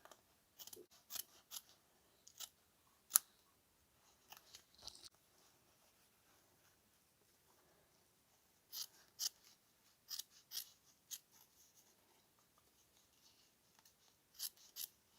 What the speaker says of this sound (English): So we can just cut it down to where the stitching happens